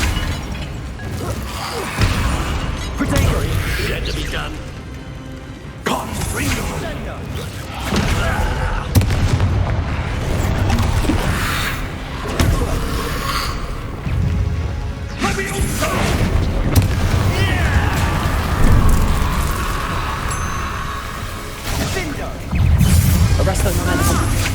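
Heavy booming blasts from Confringo spells in Hogwarts Legacy rumble through a chaotic fight, loud and dense with repeated impacts and crashes layered under shouted spell calls.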